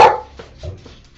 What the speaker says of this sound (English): That's a very loud dog.